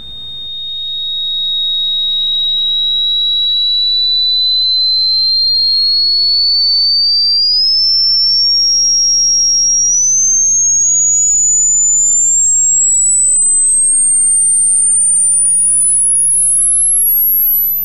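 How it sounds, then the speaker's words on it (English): A tone-generating machine plays a pure, steady sine tone that glides slowly and continuously upward in pitch, rising in small steps to very high, loud and alone over a faint low hum. "This machine is going to produce sounds at different frequencies."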